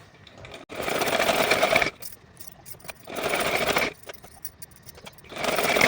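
A sewing machine stitches the lining strip of a small Kanha dress in three close, loud runs, each a few seconds long, separated by short pauses.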